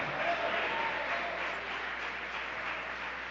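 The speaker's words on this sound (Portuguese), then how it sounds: "Dê um aplauso a Jesus." A church congregation applauds in a steady, even wash of clapping, moderately quiet and somewhat distant, with no distinct voices.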